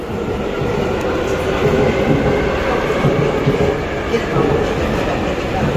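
Steady rumble of a subway train at a station in Seoul, South Korea, a continuous dense rolling roar with a muffled low hum and faint background voices throughout.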